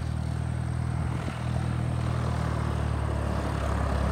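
A small propeller plane drones steadily nearby as it lands at an airport, its engine a constant low buzz with a brief dip midway.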